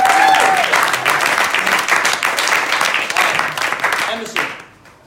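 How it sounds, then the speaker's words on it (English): A round of applause breaks out at an exclusive business pre-party for the Expert Empires 2018 event. Close, loud clapping from a room of people starts at once and stays strong, then tapers off quickly at the end. "Give him a round of applause."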